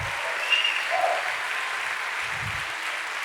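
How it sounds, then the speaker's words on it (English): A church audience claps steadily together, a broad continuous wash of applause, with brief low murmurs underneath. "Just keep on clapping."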